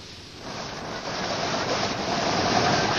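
Ocean surf near a boat at the shore's surf line: a continuous broad wash of waves and wind that swells louder over the few seconds, with no voices.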